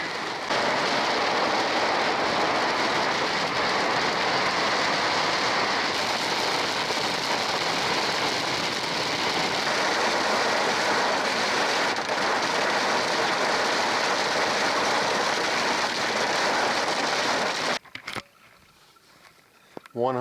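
Heavy rain pours down steadily during a storm while out on a mule deer archery hunt, a dense, loud hiss that runs unbroken before cutting off abruptly near the end, leaving a quieter tail.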